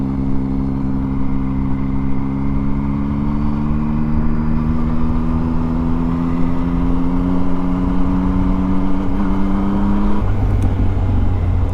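A 2020 Yamaha MT-09 motorcycle with an MIVV exhaust pulls away and accelerates, its engine note climbing steadily in pitch for about ten seconds before a gear change drops it lower, loud and close throughout.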